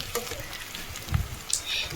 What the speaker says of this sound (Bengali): কচুগুলোও ভালো করে ভেজে নেব যত ভাজবে কচু না তত টেস্ট হবে